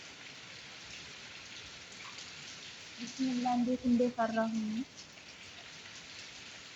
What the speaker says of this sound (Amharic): እናንተ ግን ያስፈራል እንዴ ዝናብ ሲዘንብ?